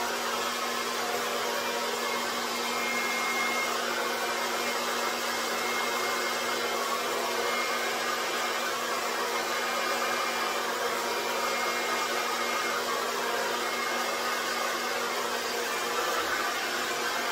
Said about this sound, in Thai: ใช้ลมอ่อน แต่ว่าใช้พัดลมนะคะเบอร์แรงแบบนี้นะ